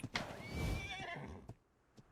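A fire horse in ARK Survival Evolved, playing the Elemental Ark map, lets out one loud, drawn-out whinny, followed by a few faint hoof thuds as it fades.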